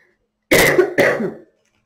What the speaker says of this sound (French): Excusez-moi de tousser